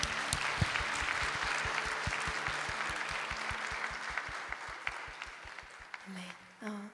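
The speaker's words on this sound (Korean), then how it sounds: "하나님께 영광 박수 올려드립니다." A church congregation applauds after worship singing, a dense steady wash of clapping overlaid by a loud, regular rhythmic clap or beat, ending with a voice briefly speaking near the close.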